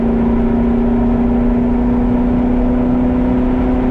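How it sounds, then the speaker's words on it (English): A C7 Corvette with an AWE exhaust gives a steady, close, loud droning hum with no clear rise or fall in pitch. "See, I love the downshifts with that exhaust."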